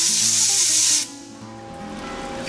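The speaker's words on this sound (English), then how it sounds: "Let me blow the coolant off that real quick." Compressed air blasts coolant off a freshly machined metal part in a motorcycle suspension shop, a loud close hiss lasting about a second, then cutting to quieter machine-shop hum.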